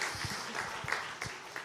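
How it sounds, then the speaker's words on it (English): A corporate talent-leader awards audience gives a short burst of faint, distant applause that fades over under two seconds. "A big round of applause for that."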